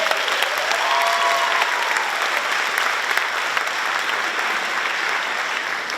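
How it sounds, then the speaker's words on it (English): Audience applause at a high school pops night concert, a dense steady wash of clapping that holds at an even level from start to finish, with no voices standing out. "Let's give them a round of applause."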